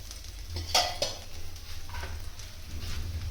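Cumin and mustard seeds go into hot oil in an iron kadhai, giving a light sizzle under a few sharp metallic clinks and scrapes of a utensil against the pan, close by and fairly quiet.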